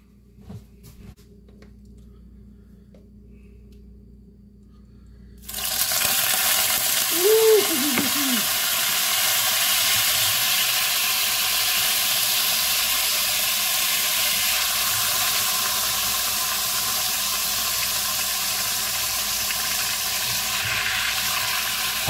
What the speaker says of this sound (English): I just happen to have a wok. I'm lucky. Okay. Now, all we're doing right now is browning